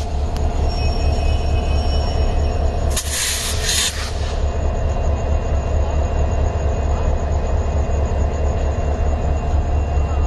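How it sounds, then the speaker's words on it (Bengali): Railway carriages on a Dhaka–Cox's Bazar line being coupled to a train: a steady low rumble of rail machinery throughout, with a brief louder burst of hiss or clank around the middle. "এই ট্রেনের সাথে সংযোগ দেওয়া হচ্ছে।"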